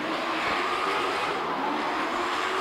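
A drift car's engine roars steadily at high revs at Baypark Stadium during a drift series qualifying round, loud and sustained with no break.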